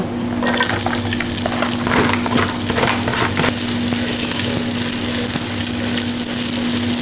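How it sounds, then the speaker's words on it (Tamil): Finely chopped onions, a quarter kilo, fry with spices in hot oil for Labori mutton gravy, giving a loud, steady sizzle with scraping stirs early on, then a continuous crackling hiss. "இந்த 1/4 கிலோ வெங்காயம் போட்டு ஒரு 2 நிமிஷத்துக்கு வதக்கணும்"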